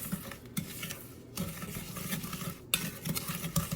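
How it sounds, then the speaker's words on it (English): A spoon stirring a raw meatball mixture with dried minced onion in a bowl, soft wet mashing and scraping with a few clinks against the bowl, close and without speech. "Now we're just going to mix that up, grabbing ourselves a spoon."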